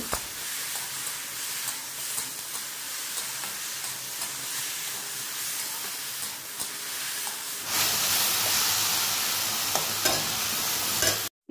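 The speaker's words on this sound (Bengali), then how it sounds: "গ্যাসের ফ্লেমটা মিডিয়াম টু হাইতে রেখে ভেন্ডিগুলোকে প্রথমে খুব ভালো করে নেড়েচেড়ে মিশিয়ে নিতে হবে" Okra frying in a wok over a medium-high gas flame for a Punjabi-style bhindi fry sizzles steadily up close, with scraping stirs throughout. The sizzle swells louder and brighter toward the end.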